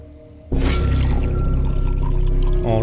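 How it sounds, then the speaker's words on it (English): In Wasteland 2, serum is poured into a reservoir, beginning with a sudden gush after a quiet hum, then a steady, loud liquid pour that ends in a bubbling gurgle. "you pour the serum into the reservoir and here the pumps start to flush it through the system"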